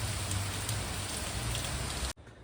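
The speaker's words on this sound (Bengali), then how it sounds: "অত্যাধিক বৃষ্টি।" Heavy monsoon rain pours steadily in Bengal, a dense continuous hiss of drops on surfaces that cuts off abruptly near the end.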